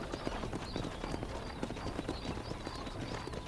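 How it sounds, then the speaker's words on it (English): Horse hooves clip-clopping steadily as a wagon drives away along a road in Red Dead Redemption, a brisk even rhythm of hoofbeats over a faint rolling wheel rumble, moderately close. "Bonnie stands on the road and watches as the Marstons drive away in their wagon"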